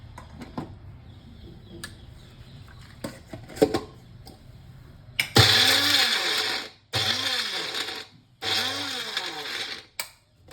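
A mixer grinder whirs through three loud bursts as it grinds a coriander masala paste in a home kitchen, after quieter clinks and handling noises, with brief pauses between the bursts.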